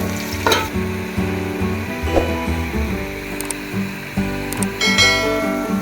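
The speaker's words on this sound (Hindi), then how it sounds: "प्याज को इतना फ्राई करना है कि सुनहरा गोल्डन हो जाए।" Sliced onions sizzle and crackle in hot oil, frying until golden, while a utensil stirs and scrapes the pan, with clinking, ratcheting stirs throughout.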